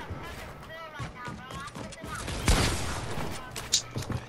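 Gunfire in a shooter video game, with bursts of shots and a sharp loud crack midway, heard under players' talk.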